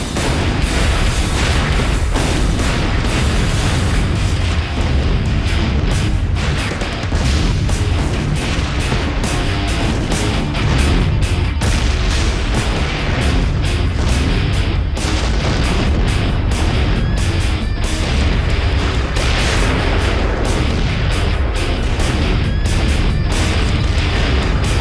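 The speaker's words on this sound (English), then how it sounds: "Finally, the explosions subside." Acetylene tanks explode in a burning building with dense, repeated booms and cracks, loud and chaotic, over a continuous roaring rumble for the whole stretch.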